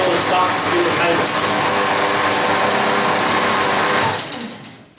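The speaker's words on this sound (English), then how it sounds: "Turn the machine on. Stretch the cable and start to spin the cable." A SEGO drain cleaning machine runs with its 32mm (1¼-inch) cable stretched out and spinning, giving a steady close mechanical whir that holds evenly before fading near the end.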